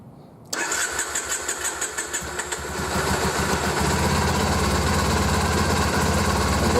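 Triumph Bonneville motorcycle engine cranks on choke after a sudden start, with a few rhythmic pulses before catching and settling into a loud, steady, close idle.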